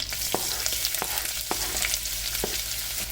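Finely sliced onions sautéing in a pan for potato poori masala, a continuous close sizzle with several soft scraping stirs at irregular intervals.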